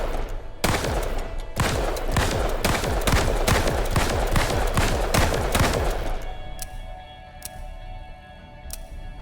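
Rapid, loud gunshots from the hand cannon pistol in the System Shock remake, a dozen or so sharp cracks in quick succession, followed by a few sparse mechanical clicks.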